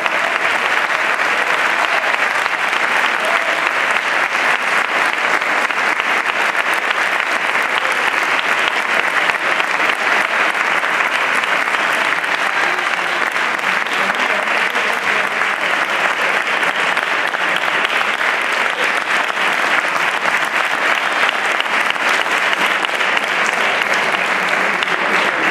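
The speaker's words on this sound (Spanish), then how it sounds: "para el cual también pido un gran aplauso por estos años" A loud, sustained audience ovation honours José Jiménez Murga at a music band association's anniversary tribute in Utrera, the dense clapping of many hands rolling on steadily and evenly without a break.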